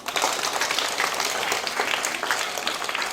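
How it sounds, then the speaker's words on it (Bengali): Children at a school event clapping loudly together, a dense burst of applause that holds steady for about three seconds. "হ্যাঁ, তাহলে একবার জোরে হাততালি দাও।"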